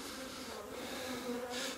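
Honeybees from a recently merged colony buzz steadily and close by as the frames are moved into an empty box, a dense continuous hum with no talking.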